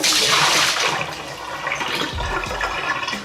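Water gushing out of an upturned jar through its wide opening, a loud splashing pour that starts strong and tapers into lower gurgling and sloshing over about three seconds.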